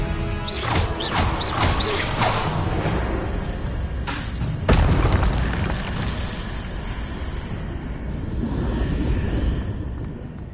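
Leviosa and Expelliarmus spells cast in Hogwarts Legacy, heard as dense magical whooshes and booming impacts over a steady rumbling game soundscape, with one sharp crash-like burst in the middle.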